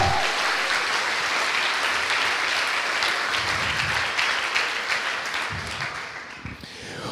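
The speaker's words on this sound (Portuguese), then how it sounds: "Uma salva de palmas para o Senhor" Sustained applause from a church congregation, steady and loud throughout, tapering slightly toward the end.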